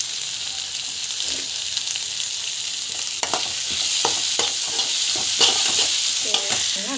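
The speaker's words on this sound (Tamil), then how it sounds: "ஸோ டமாட்டோ வந்து ஆட் பண்ணிக்கணும்." Chopped tomato goes into a hot pan with frying lentils, sizzling steadily while a spoon scrapes and stirs in irregular knocks that grow busier and louder toward the end.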